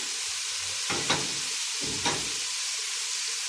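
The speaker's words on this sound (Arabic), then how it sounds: "ياخدوا تشويحه مع البصله، عشان كل التوابل دي تطلع ريحتها في الوصفه" Spices including turmeric, curry, black pepper, cardamom and cloves sautéing with onion in a pan for basmati rice, a soft steady sizzle broken by two short stirring scrapes.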